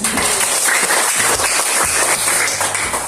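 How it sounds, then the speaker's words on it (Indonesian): A classroom breaks into applause, a dense wash of many hands clapping together, loud and sustained for a few seconds with no voices over it. "Kita berikan aplaus untuk."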